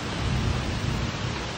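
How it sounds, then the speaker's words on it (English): A thunderstorm in Goa fills the air with a dense, steady roar of heavy rain, and a low rumble of thunder runs underneath throughout the short stretch. "It's thundering, storm"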